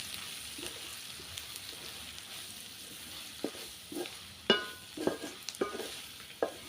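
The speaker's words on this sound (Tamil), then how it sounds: "மசாலாவை சேர்த்து நல்லா வந்து கலந்து விட்டுடலாம்" A spoon stirs spice masala, including garam masala and pepper powder, through food sizzling in a home cooking pan, giving soft scraping strokes and scattered clinks over a faint steady frying hiss, with nobody talking.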